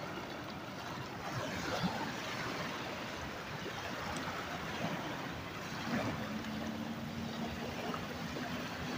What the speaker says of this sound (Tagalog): ang ganda pong pagmasdan ng hampas ng alon.